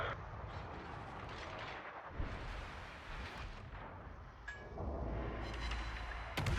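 Destroyer guns firing shells in a naval battle game, with repeated booming salvos over a steady rumble of engine and sea noise, fairly loud and without talk.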